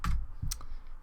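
A few crisp computer keyboard keystrokes, close and distinct, tapped at an irregular pace while entering a value in the Godot game editor, with no talking.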